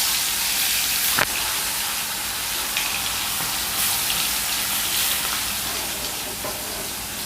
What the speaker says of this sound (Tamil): இதில் இந்த மேரினேஷன் பண்ண சிக்கனை போட்டு போகிறேன்